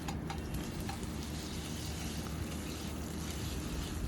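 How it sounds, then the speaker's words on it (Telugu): Ginger garlic paste frying in a pan while an Andhra stuffed brinjal curry is cooked, giving a steady, even sizzle that stays continuous and close throughout with no talk over it. "అల్లం వెల్లుల్లి పేస్ట్ అండి అది కూడా మంచి వాసన వచ్చేదాకా వేపండి"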